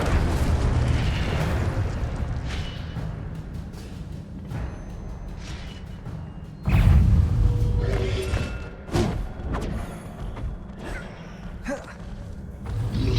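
Fire spells are cast in the video game Hogwarts Legacy, giving deep booming bursts and thuds over a rumbling game soundtrack, with one strong blast partway through.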